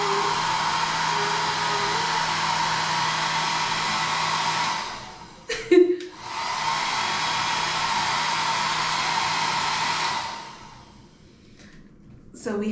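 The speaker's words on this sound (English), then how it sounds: "So we have a hair dryer." A hair dryer blows with a steady loud whoosh in a hotel room in Venice, Italy, stops briefly with a few clicks and handling noises, then runs again before shutting off.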